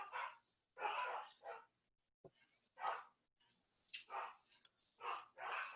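Dogs bark at the mail carrier at the door in a series of loud, close barks with short pauses and a few higher yips, coming in irregular bursts.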